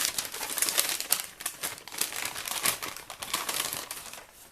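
Plastic treat bag for a monster craft being opened, giving close, busy crinkling and rustling in quick irregular bursts that carry on throughout, no voices.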